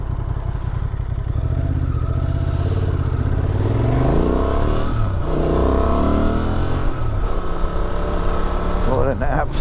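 A loud motor engine revs up and down continuously, its pitch sweeping upward and falling back several times, with some clatter near the end.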